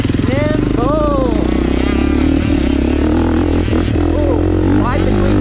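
A Honda CRF450R dirt bike engine while riding, a loud, continuous throbbing roar with rising and falling revs, up close, with a rider speaking over it.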